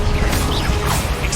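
A dense, roaring magical blast from the Confringo spell in Hogwarts Legacy, a sustained crashing burst of fiery energy, loud and close throughout.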